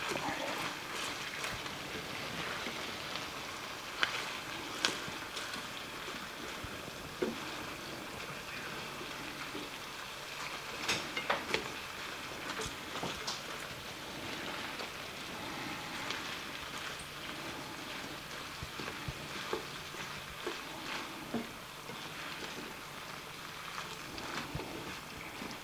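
Chopped cabbage cooking down in a hot skillet gives a soft, continuous sizzle and crackle with scattered small pops throughout.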